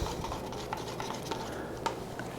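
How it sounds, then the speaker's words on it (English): Clear resin stirred with a bamboo paddle stirrer for rotational casting, faint soft scraping and light taps against the container in a quiet, uneven rhythm. "So let's stir the resin."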